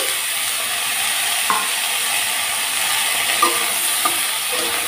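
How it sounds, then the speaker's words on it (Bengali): Okra (bhindi) frying in oil over low heat, tempered with spices and chilies, gives a steady, close hiss of sizzling with a few soft clicks of stirring throughout. "ভেড়িটাকে প্রথমে ভাজা করতে হবে হালকা আঁচে"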